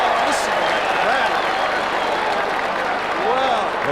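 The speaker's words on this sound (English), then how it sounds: "Listen to that crowd." A crowd at an Australian football match between Adelaide and St Kilda roars steadily throughout as the home side surges ahead, with the noise loud and continuous and a commentator talking over it.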